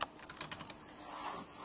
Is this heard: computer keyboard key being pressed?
yes